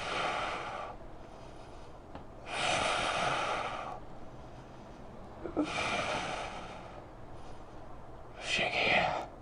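Heavy breaths during a kettlebell exercise: four long, loud exhalations through the nose or mouth at a slow, even rhythm, close to the microphone and separated by quieter pauses.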